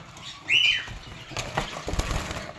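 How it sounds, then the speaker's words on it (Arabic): A male bird is let out to fly, giving a sharp burst of wingbeats close by and then a scatter of quieter flutters and rustles. "تعالوا كده نخليه يطير ونشوف هيعمل ايه"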